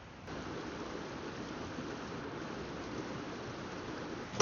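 A river flows steadily behind a roof tent campsite, a constant broadband rushing wash that stays even and unbroken throughout, with no voices.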